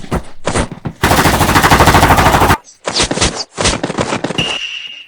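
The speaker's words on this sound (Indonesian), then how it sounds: "buka tembakan" Loud, rapid machine gun bursts rattle close by, one long sustained volley followed by shorter bursts, with a whining tone at the end.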